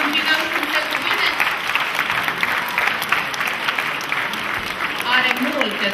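Audience at a Christmas show applauding as Santa Claus arrives on stage, a steady wash of clapping from a crowd lasting several seconds, with a presenter's voice speaking over it.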